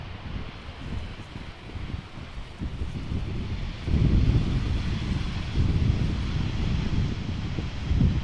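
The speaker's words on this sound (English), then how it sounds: "This is Royal Air Maroc, flight 1682, now touching down after its flight from Tangier." A Royal Air Maroc airliner touching down at Amsterdam Schiphol after a flight from Tangier, a broad distant engine roar that swells partway through, heard through steady wind buffeting the microphone.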